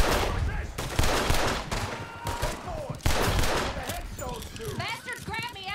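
Gunfire in Red Dead Redemption 2 during a shootout, several loud, sharp bursts and single shots spread across the moment, mixed with shouting voices and other action sounds.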